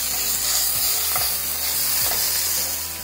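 Onions with ginger garlic paste sautéing in a pan for an egg and potato gravy, a steady close sizzle with a few scraping stir strokes, no talking.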